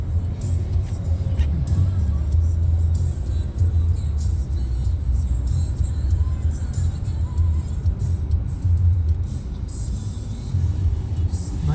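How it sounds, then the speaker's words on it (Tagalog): Road traffic in Manila on the drive from Terminal 3 to Commonwealth, heard from inside a moving vehicle as a continuous, fairly loud low rumble of engines and tyres that stays steady throughout with no clear speech. "Traffic."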